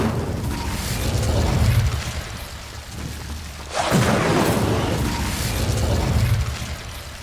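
Incendio fire spell cast in the Hogwarts Legacy video game, a sudden whooshing burst of flame erupting midway over steady game ambience and rumble, followed by sustained crackling fire noise.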